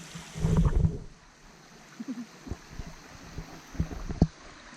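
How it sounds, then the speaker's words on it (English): A stream on a Kauai hiking trail flows in a steady, soft wash under scattered nearby thumps and knocks, with a heavier rumble at the start, moderately quiet overall. "the water flow is really starting to pick up the higher up that we get"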